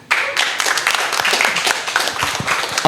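An audience clapping during a football talk show, a burst of dense applause starting abruptly and continuing steadily, fairly close and loud.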